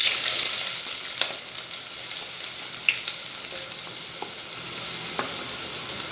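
Chopped onion sautéing in hot oil in a pan gives a steady, close sizzle with crackling pops scattered throughout, and no voices come through.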